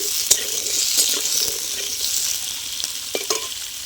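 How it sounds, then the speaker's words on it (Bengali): Potatoes and radish frying in a pan with a steady close sizzle, broken by a few sharp scrapes and stirring clicks, no voices. "এবার আলু আর মূলোটা আমি খুব ভালো করে ভেজে নেব।"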